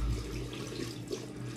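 Tap water, not very hot, runs steadily into a sink while a shaving brush is soaked under the stream, making a constant close splashing hiss with no speech.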